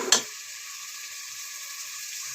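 Chicken frying with chillies and turmeric gives a quick clatter followed by a steady, soft, high hiss of oil, close by and unbroken, with no talking.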